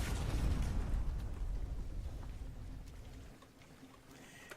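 A deep, rumbling underwater blast from a torpedo attack in the game Sunless Sea rolls out loud at first, then fades into a softer watery wash toward the end.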